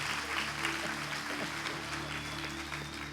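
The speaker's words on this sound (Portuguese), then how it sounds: "uma salva de palmas para os irmãos da mesa" A church congregation at a Brazilian service gives a round of applause, a steady mid-level clapping with a low hum from the hall's sound system beneath it.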